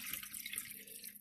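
Tap water runs steadily into a container, a close, continuous hiss and splash with no talking.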